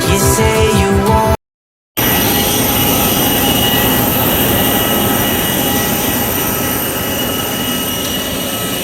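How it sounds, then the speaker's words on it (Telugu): An airplane's jet engines roar loudly and steadily during landing at Hyderabad, after a brief burst of music and a short gap, with the engine noise continuing alone to the end. "Thanks to pilot for safe landing in Hyderabad."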